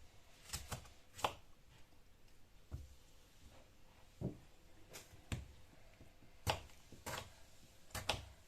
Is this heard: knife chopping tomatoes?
yes